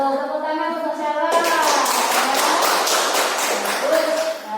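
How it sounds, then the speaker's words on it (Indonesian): Classroom applause breaks out as pupils clap for a classmate, a burst of quick, overlapping hand claps that starts suddenly after a stretch of voices and continues loud and even, with children's voices mixed in. "Tepuk tangan untuk Sheila."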